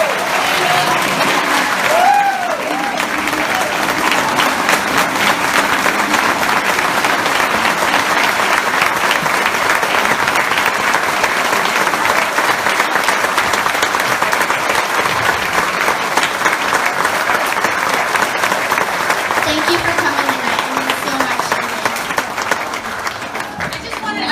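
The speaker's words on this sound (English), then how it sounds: "Clapping for her" Sustained audience applause fills a gala room for the JDRF event after a speech, steady and loud for over twenty seconds, with faint voices mixed into the crowd noise.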